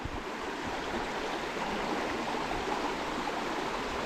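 Shallow river flowing across a forest track crossing, a steady, close rushing and babbling of water with no other sounds.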